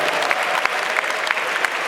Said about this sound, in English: Round of applause for Ghanaian ladies.